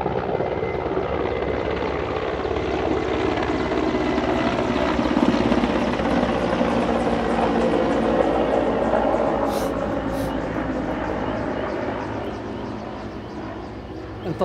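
An American military aircraft circling overhead, a broad steady roar that swells and slowly fades as it moves off, continuous throughout with faint voices beneath.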